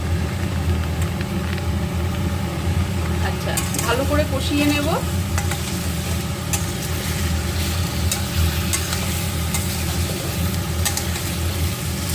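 Cut potatoes, drained of water, go into a hot pan for a prawn and potato dish, setting off a loud, steady sizzle and frying hiss with occasional stirring clatter that continues throughout.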